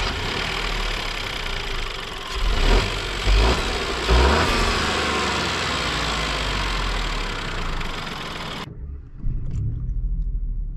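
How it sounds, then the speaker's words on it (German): A 2021 Opel Corsa F with a 1.2 turbo three-cylinder engine cranks over with a brief starter whir, catches, then settles into a steady idle that cuts off abruptly near the end. "So, starten wir unseren Fahreindruck, indem wir den Motor starten, ganz klassisch."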